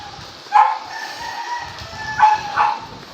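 A dog barks a few times, short sharp yelps at a distance, over a steady hiss of typhoon rain during flooding in Bicol, with a faint tone running underneath.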